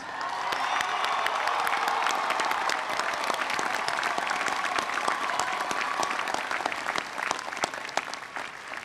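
A standing commencement audience of families, alumni and friends applauds college degree recipients at a university graduation ceremony, steady loud sustained clapping with crowd murmur throughout.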